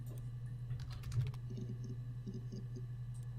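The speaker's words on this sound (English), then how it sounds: "The clicking is just the sound effects of me typing." Keyboard typing clicks from the computer interface in the video game Her Story, a steady run of light taps over a low constant hum, fairly quiet and without speech.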